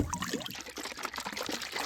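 Tanning solution poured into a container of water and rock salt, a close trickling, gurgling flow of liquid that runs continuously and unevenly.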